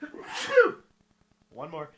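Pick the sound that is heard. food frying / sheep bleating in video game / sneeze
sneeze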